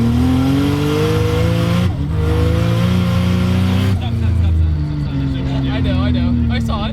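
A Mitsubishi Evo 3 accelerates hard from inside the cabin, its engine note rising through the gears with a shift break partway through. The sound is loud and continuous, and people talk over it.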